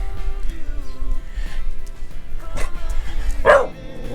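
A dog gives a few short barks and yips outdoors at the American Gothic House in Iowa, one sharp bark standing out near the end over steady background noise.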